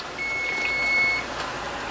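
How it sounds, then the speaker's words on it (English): A kitchen timer sounds a single steady electronic beep lasting about a second while jelly is being made, clear and fairly close over quiet room noise. "2 seconds, and there's our timer."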